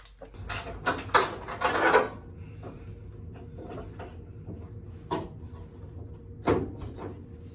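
Mechanical clunks and knocks as a vacuum-operated cowl induction hood door on a Chevelle opens and closes, a cluster of thumps early on, then quieter rattles and a couple of later clacks.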